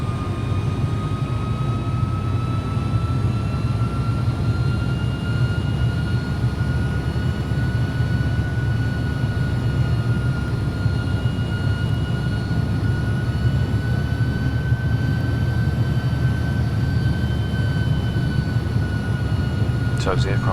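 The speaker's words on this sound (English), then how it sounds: "So as the aircraft makes its right hand turn to backtrack" An Airbus A300-600 airliner taxis and swings through a right-hand turn in a flight simulator, its jet engines giving a steady, even whine with a sustained tonal hum throughout.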